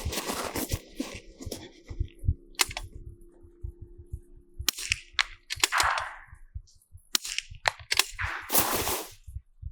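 A RimX .22 rimfire precision rifle fires, producing a string of sharp, close cracks with short gaps between them and no talking.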